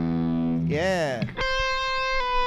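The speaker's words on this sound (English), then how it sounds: "find a good solo sound that you want to use that has a hefty amount of distortion on it" An electric guitar through a solo patch with heavy distortion sustains sharp, buzzing notes with a bend in the middle, loud and close, and a voice briefly speaks over it.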